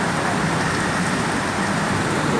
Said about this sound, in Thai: ฝนตกแห้งอย่างนี้พี่น้อง